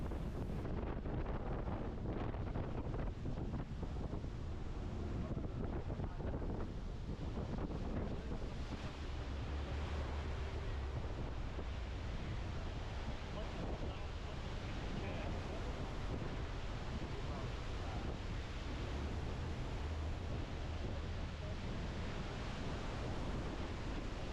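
A constant, dense roar of rushing water from Iguazu Falls fills the whole stretch, loud and unbroken, with gusty wind buffeting the microphone.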